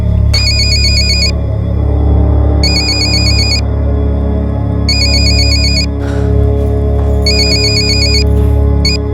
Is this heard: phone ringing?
yes